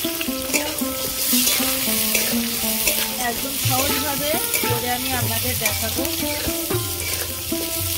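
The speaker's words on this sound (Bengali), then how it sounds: "ওই তেলের মধ্যে আমি আলুগুলো ভেজে নেব।" Potatoes fry in onion-flavoured oil in a wok, a loud continuous sizzle with stirring scrapes, while a person talks over it.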